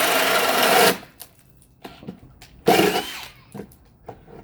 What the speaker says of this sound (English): this is the Bosch 1330 drill, fully charged 8 amp-hour battery